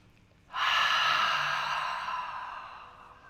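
A long, breathy exhaled "ha" from a yoga practitioner begins abruptly after half a second, loud and close, then slowly tapers off over a few seconds with no other voices.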